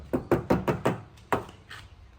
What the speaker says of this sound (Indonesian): Nah, tutupan pintu masih enak